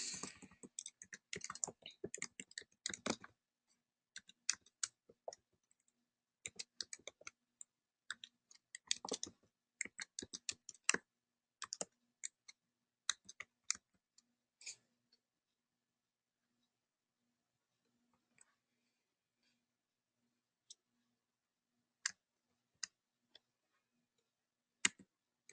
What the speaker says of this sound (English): I guess I could just type it from here